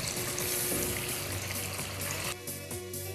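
Shami kebabs shallow-frying in hot oil give a steady, close, moderately quiet sizzle and bubbling hiss that runs throughout, dropping slightly near the end, with no voices over it.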